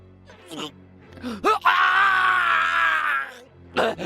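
A man lets out a long, loud strained cry of pain, with short groans and gasps before and after it.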